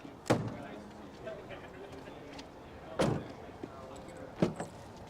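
Front door of a Wingamm Oasi 540 Class B motorhome with a custom fiberglass monocoque shell, giving three sharp clunks and latch clicks spaced a few seconds apart over quiet room tone.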